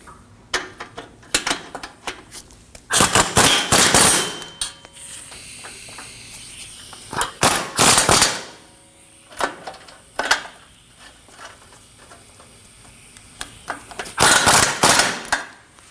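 Knock sensor bolts on a Chevrolet Colorado 3.6L V6 get snugged down with a ratchet, rapid bursts of clicking that come in a few separate runs with quiet pauses between, close and fairly loud.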